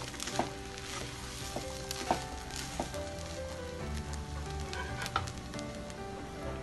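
A laddu mixture being stirred in a pan, a continuous crackling sizzle punctuated by several sharp clicks of the spoon against the pan.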